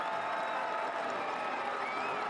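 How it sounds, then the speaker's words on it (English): Steady, dense crowd roar fills a soccer match between Colorado Springs Switchbacks FC and Real Monarchs SLC, a continuous wash of massed voices at even loudness with no breaks. "The crowd roars here for Melvin."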